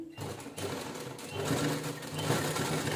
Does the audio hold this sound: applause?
no